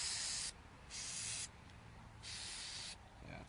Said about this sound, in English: Spray it in just all the holes.